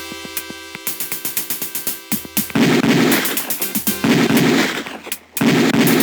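Rapid bursts of Beretta pistol fire at a police firing range in the Police Quest 4 game, a quick run of sharp, loud shots followed by denser overlapping volleys with short pauses between strings.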